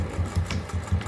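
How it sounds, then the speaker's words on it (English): A sewing machine back stitching a fabric face mask, a close mechanical rattle with quick, evenly pulsing needle strokes and no talking. "I do a little back stitching."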